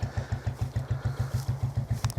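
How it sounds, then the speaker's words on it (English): A narrowboat's restarted engine chugs close by in a steady, even thumping rhythm of about seven beats per second, loud and mechanical with a clattering edge. "He restarted his engine just so I could get a video of it."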